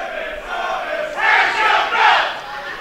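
A wrestling crowd at an indoor match chants in rising swells, a dense roar of many voices at a moderate distance with two louder surges.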